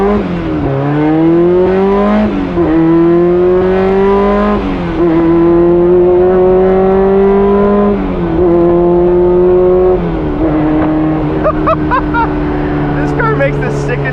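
A built K24-engined Honda S2000 on its first drive, engine revving loud and close with a buzzy, motorcycle-like tone, pitch climbing repeatedly through the gears and dropping at each shift across the whole stretch.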